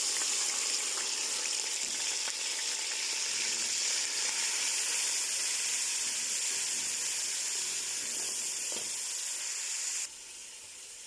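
Onions frying in hot oil for gombo sauce, a loud, continuous broadband sizzle and hiss close up that drops off abruptly near the end.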